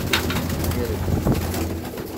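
Breeder pigeons coo softly and repeatedly nearby while feeding, low throaty calls over a busy background of rustling and faint chatter.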